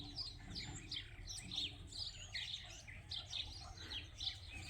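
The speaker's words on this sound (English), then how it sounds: "when you listen over the sound of the tractor, you can hear we have a lot of birds here" Many wild birds chirp and tweet outdoors on a sheep farm in overlapping bursts, moderately distant, over a tractor's steady low engine rumble.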